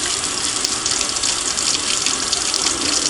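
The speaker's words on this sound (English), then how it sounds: "I keep my hand over it just enough so that I don't lose the screws in the sink" Rinse water pouring out of a cup into a sink, splashing as a continuous bright gush, close and fairly loud for a few seconds.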